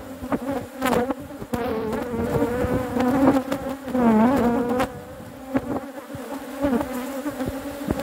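Honey bees buzz steadily around an open beehive while a second honey super is added, a dense, continuous drone with individual bees flying close past and swelling in loudness.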